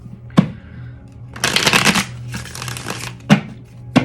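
A new tarot card deck being shuffled, with a quick riffle snapping at the start, a longer rustling burst in the middle and a few sharp card taps near the end, close and fairly loud with no talking.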